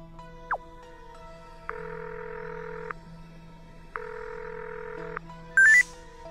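A phone call placed in the video game Buried Stars: a short dial beep, then two long electronic ring tones separated by a pause, ending with a bright chime as the call connects, with no speech.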